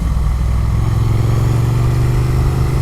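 A Triumph Speed Twin Bonneville motorcycle engine pulls away at low revs, a loud, steady, close-up rumble that climbs slightly in pitch as the bike gets under way in town traffic.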